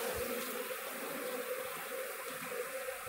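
Swarming honeybees keep up a steady droning buzz throughout, fairly close and even in level, with no talking.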